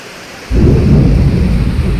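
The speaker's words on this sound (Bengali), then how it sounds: "দেখো হাওয়ায় জলগুলো কীরকম উড়ে উড়ে চারিদিক করছে" Heavy rain driven by strong wind during a flood, a dense roaring wash that bursts in loud after a brief quiet start and holds steady.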